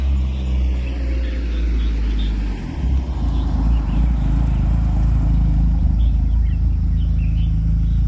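A Honda car engine roars at high RPM during a Sunday morning drive in Hong Kong, a loud, steady, close rumble that dips briefly near the middle before resuming.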